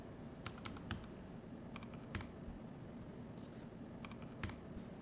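A one-time password being typed on a computer keyboard, soft irregular key clicks in small bursts over a quiet room hum, faint and close, with no talking.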